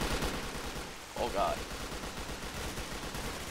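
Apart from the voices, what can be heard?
gunfire in the video game S.T.A.L.K.E.R. Call of Chernobyl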